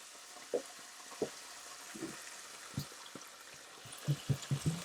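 Tomato is stirred into ginger-garlic paste frying in a pan: a soft, constant sizzle with irregular scraping and wet knocks from the spoon, which bunch together toward the end, heard up close and fairly quiet.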